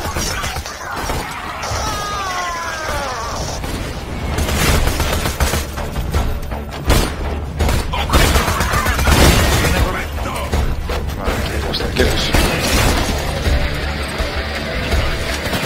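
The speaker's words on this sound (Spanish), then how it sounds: "Estoy oyendo más disparos de lo habitual." Bursts of Borderlands 2 gunfire crackle and pop with shattering impacts and booms, dense and loud through most of the stretch, without speech.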